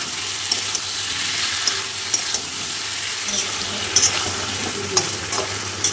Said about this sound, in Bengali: ফুলকপি আলু দিয়ে ভালো করে আমি কষিয়ে নেব।